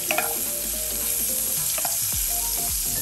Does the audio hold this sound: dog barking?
no